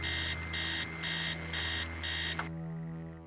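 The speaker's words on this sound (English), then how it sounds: "Upstairs, sound of an alarm clock blaring" Electronic alarm clock ringing in a house in repeated loud pulsing bursts, about five evenly spaced, then cutting off abruptly partway, leaving only a low steady hum.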